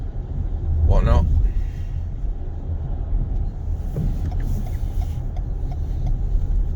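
A milkman's car with its lights going passes by as a low road rumble that swells briefly, with a nearby voice heard over the continuous drone of the car being driven.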